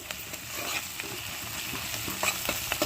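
Homemade ginger garlic paste sizzles in a pan with onions and green chillies, a steady close frying hiss broken by soft stirring scrapes and small spattering pops.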